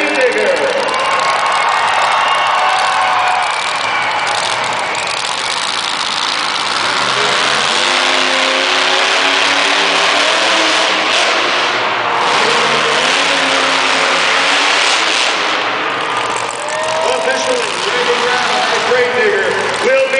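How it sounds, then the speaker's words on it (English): Gravedigger monster truck at a racing event, its big engine revving loudly and continuously with a crowd roaring and an announcer talking over it. "we're going to have to get Gravedigger fired up in order to advance to the final"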